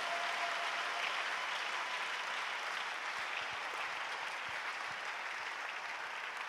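A church congregation applauds the Lord in steady, dense clapping that fills the room, loud and continuous without a break, with no voices heard above it.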